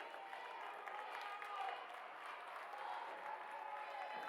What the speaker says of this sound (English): Washington County getting a round of applause